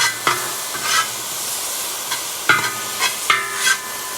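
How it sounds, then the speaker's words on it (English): Chicken and vegetables sizzle in a very hot cowboy wok for moo goo gai pan, with a steady frying hiss and repeated scraping, clanking strokes of a spatula stirring the food. "If you ever put so much in that it stops sizzling, it means you've overloaded your wok."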